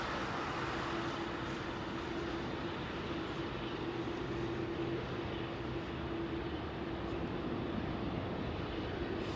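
A jet airliner at London Heathrow Airport on a Sunday morning, flaps still extended, gives a steady, continuous engine roar with a faint tonal hum, even in loudness throughout and with no voices.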